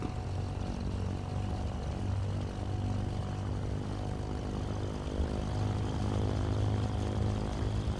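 Cockpit sound of a Chancellor 414 twin-engine piston plane in Microsoft Flight Simulator as its engine spools up: a steady, droning propeller hum with a low throbbing tone holds at an even level throughout, with no talk.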